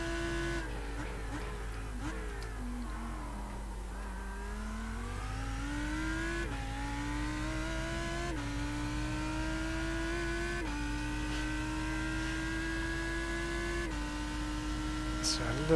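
Lamborghini Huracan GT3 EVO race car in iRacing, engine revving up and down through the gears over a lap at Spa's Eau Rouge, with pitch rising steadily between upshifts, loud and continuous, and a voice talking over it.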